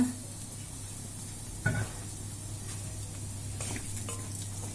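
Brinjal pieces fry in a pan with a soft steady sizzle and hiss, a low background hum underneath and a brief clatter of stirring partway through.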